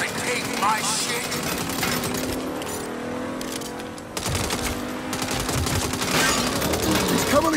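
Rapid automatic gunfire in Saints Row, dense continuous bursts of shots with a brief break midway, loud and close, mixed with game noise and shouting voices.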